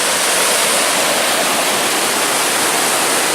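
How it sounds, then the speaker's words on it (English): Fast-flowing stream water rushes along a forest trail, a loud, steady, close hiss of churning water with no breaks. "But this water is cruising right now."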